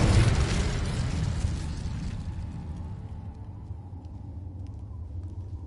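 Incendio fire spell cast in Hogwarts Legacy, a loud roaring burst of flame at the start that fades into a sustained crackling rumble, with no talking.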